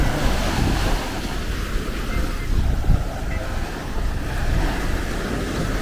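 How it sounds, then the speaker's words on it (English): Rough sea surf breaking along Hellshire Beach in Jamaica, a steady broadband wash with wind buffeting the microphone and no clear gaps between waves. "This water, you can't even swim in this water anymore, Chris."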